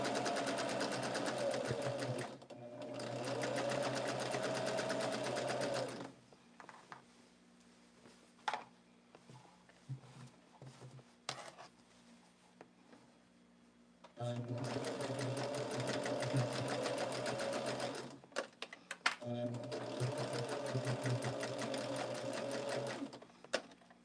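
Sewing machine stitching quilt sashing across seams, long steady motor runs in three bursts separated by quiet pauses with small clicks and handling sounds as the foot is lifted.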